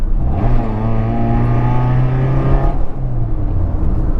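A Maruti Suzuki Swift with a loud modified exhaust revs hard up close, a steady deep engine drone with rising harmonics that drops off briefly near the end before picking back up.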